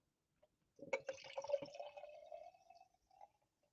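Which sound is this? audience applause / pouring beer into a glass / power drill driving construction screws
pouring beer into a glass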